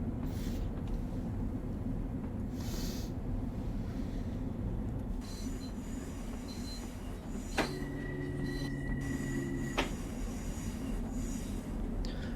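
A train passes in the Train Sim World 3 simulator on Metro North's Harlem Line, with a steady low rumble throughout and a brief rising tonal whine and squeal partway through, without speech.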